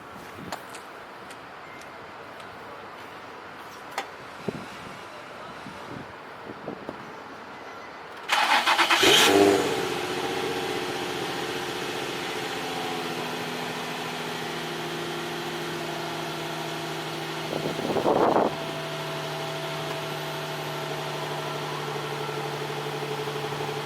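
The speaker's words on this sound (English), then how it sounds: "So I gotta hit you guys with the cold start." A car engine cold-starts after some quiet handling noises: a loud crank and catch, then a steady idle with a brief blip of revs later on.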